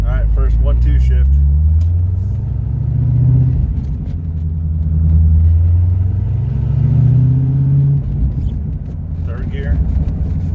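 A C4 Corvette engine drones and rises in low, rumbling waves as the car pulls through its first gears on a slow road, recurring swells of revs under an occasional voice.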